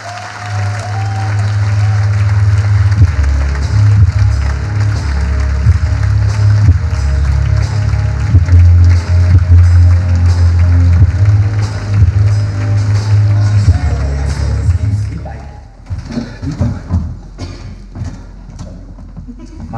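A Slovak talk-show studio audience applauds loudly and steadily for a guest, sustained clapping with music underneath that fades out near the end.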